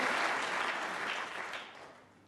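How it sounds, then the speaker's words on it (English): Audience applause at the 2014 World Snooker Championship semi-final, Ronnie O'Sullivan against Barry Hawkins, after a shot. A steady patter of clapping from a large crowd, fairly quiet and fading toward the end. "justified applause"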